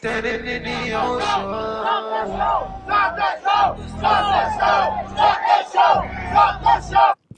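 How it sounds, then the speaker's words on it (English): A concert crowd at a music festival yells and chants loudly and continuously over pounding live music, with voices rising and falling in waves until an abrupt cut at the end. "At this point, you've got people in the crowd yelling for him to stop."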